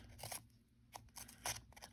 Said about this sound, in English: You grab your scissors and you go along the edge